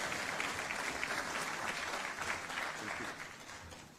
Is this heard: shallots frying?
no